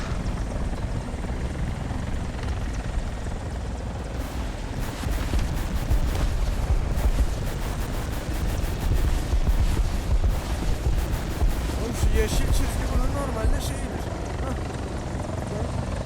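A loud, continuous helicopter rotor drone in the video game War Thunder fills the scene with heavy low rumble, while voices talk over it and occasional bursts ring out.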